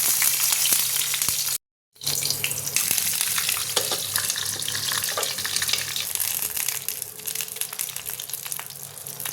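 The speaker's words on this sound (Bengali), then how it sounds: "তো এখানে তেল গরম হয়ে গেছে, এক এক করে সিমলা মরিচগুলো দিয়ে দেবো" Bell peppers drop one by one into hot refined oil, bursting into close, loud sizzling and crackling that carries on with brief clinks and a short silent gap early on.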